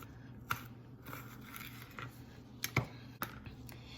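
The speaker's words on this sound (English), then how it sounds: "We're going to start by cutting the ends of the end of the jalapeno off, and then we're going to cut it in half." A knife cuts the ends off a jalapeño and halves it on a board, giving a few quiet, sharp cutting taps spaced apart over a low background hum.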